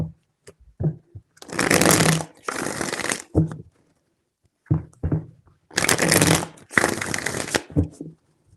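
Tarot cards being shuffled by hand in several loud, rustling bursts, grouped in two clusters with quiet gaps between them, close to the microphone.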